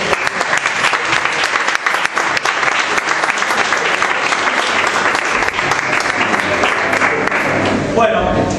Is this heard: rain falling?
no